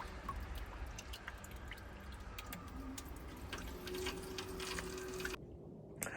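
Water leaking from a failed main heat exchanger in a domestic boiler drips and trickles steadily, a soft close patter of liquid against a low background hum, ending abruptly near the close.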